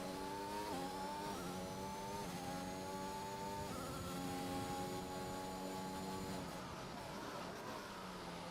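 Race car engine in a racing video game, downshifting with engine braking on a league round at a Netherlands circuit; loud, continuous engine tone stepping through several rev drops and rises, with commentary talk beneath.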